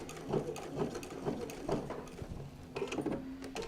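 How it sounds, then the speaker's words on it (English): A sewing machine back tacks a stitch, its needle clattering in a quick mechanical rhythm of repeated short pulses, fairly quiet and close, with a brief pause before it resumes. "I'm going to just back tack a little bit and fix my stitch."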